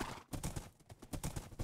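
Hooves of a ridden horse clip-clop in Minecraft, a steady rhythmic patter of close, moderately loud footfalls with no talk over them.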